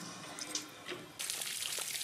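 Water runs from a tap at a boat-building site on a hot day, a soft hiss with light splashes that grows steadier and fuller after about a second, fairly faint and close.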